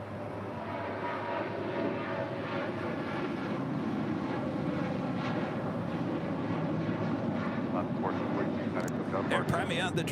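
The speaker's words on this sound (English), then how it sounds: "Air Premia, the Dreamliner, coming in from Seoul, racing over to the gates of Tom Bradley" An Air Premia Boeing 787 Dreamliner in from Seoul taxis briskly toward the Tom Bradley terminal gates at LAX, its engines a steady, continuous roar under a voice talking throughout.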